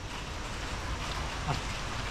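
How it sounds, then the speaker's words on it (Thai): Steady rain hiss fills the scene on Koh Chang, Thailand, in the rainy season, an even wash of falling water with no pauses, fairly close and moderately loud. "อู้ฝนตก"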